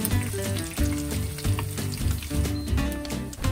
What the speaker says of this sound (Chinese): 浸软咗嘅虾米、浸软咗嘅干辣椒，同埋呢个系印度扁豆，将所有嘅材料放入热锅爆香佢